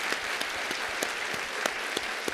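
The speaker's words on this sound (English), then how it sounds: "I think we should applaud for" An audience at a general assembly of the Arctic Circle claps steadily, with a dense, even sound of many hands in a hall that holds at one level for the whole stretch.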